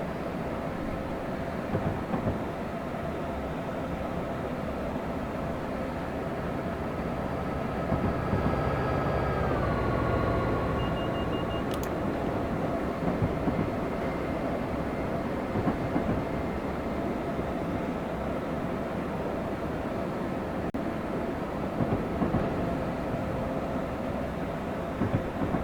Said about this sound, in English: And I believe there is a freight train coming.